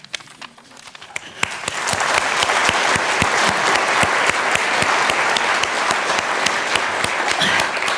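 A conference audience applauds after a keynote on public health, loud, dense clapping that swells after the first second and holds steady, with no talking over it.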